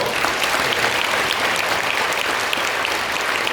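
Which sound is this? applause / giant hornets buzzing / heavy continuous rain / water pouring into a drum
applause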